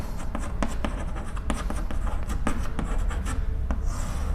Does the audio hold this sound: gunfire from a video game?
no